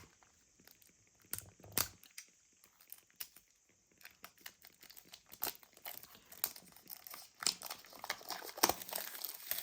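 Close, crisp crinkling and tearing of a Santa Muerte tarot deck's plastic packaging as it is opened by hand, irregular bursts of rustling growing busier toward the end, no talking.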